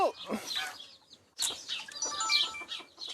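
Hens cluck in a backyard coop, a few short close calls in two bursts with a brief lull between, fairly faint, with a hint of wing flapping.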